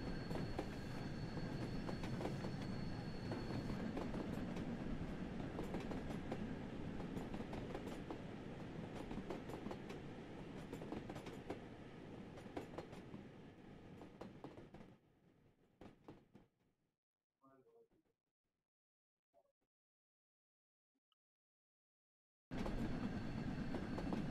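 Steam train in a train simulator game, running on a West Coast local line, a loud steady rumble with rhythmic wheel clatter and squeal that fades and cuts out before abruptly returning at full volume.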